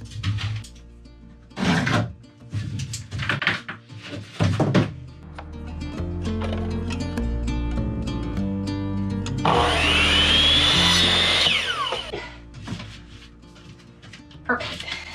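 A wood wall panel cut to size inside an RV: scattered knocks and handling thuds, then a few seconds of continuous close, loud saw cutting, followed by more clattering of boards being moved.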